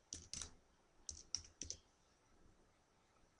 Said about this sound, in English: I'll hit enter on the keyboard.